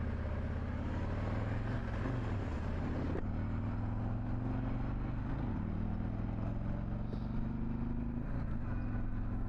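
A car rolls along a quiet back road with a steady engine hum and low road rumble throughout, close and continuous, with a few small bumps and shifts in tone.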